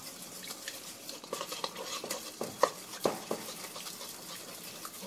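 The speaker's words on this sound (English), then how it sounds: "So we're going to mix this up." Lemon tahini sauce stirred in a bowl, with soft scraping and light clinks of a utensil against the sides repeating in a loose rhythm, close up and fairly quiet.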